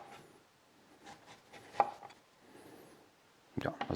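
A knife cuts the peel off a lemon on a board in a home kitchen, making soft scraping slices and then a cluster of sharper, louder chops at the end.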